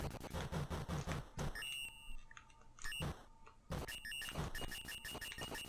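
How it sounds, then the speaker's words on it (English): Repeated electronic low-health warning beeps sound amid busy game noise in the NES game Operation Wolf, with rhythmic bursts and short quieter gaps between them. "So that sound you're hearing, the constant beeping tone, that means my health is pretty much almost gone."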